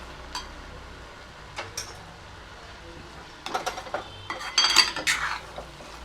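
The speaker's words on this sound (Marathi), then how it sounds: "आता हे सगळं आपल्याला छानपैकी मिक्स करून घ्यायचं" Coconut rice stirred with a pinch of salt in a pot, a spoon scraping and clinking against the metal in scattered strokes that grow busier toward the end, close and fairly quiet.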